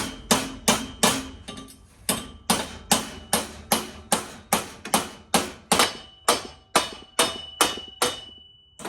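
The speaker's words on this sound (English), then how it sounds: "Now we just gotta take our hammer." Steady, evenly spaced hammer blows ring sharply on metal as a tacked muffler is peened over on a lifted golf cart build, about twenty strikes in a row, close and loud with no talking.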